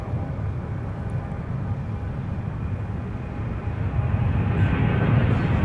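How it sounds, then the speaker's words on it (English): A Southwest airliner arrives at MSP airport, its distant steady jet rumble slowly building louder toward the end. "we've just had a Southwest arrival come in on the north side"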